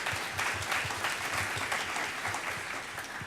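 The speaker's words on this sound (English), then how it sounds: "Let's give Katie a round of applause" A room full of people at a convocation panel discussion applauds steadily, a dense, even patter of clapping that holds at a moderate level throughout.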